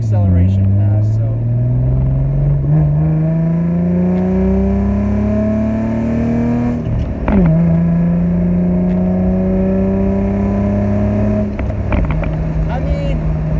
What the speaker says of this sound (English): So here, let's do a little acceleration pass.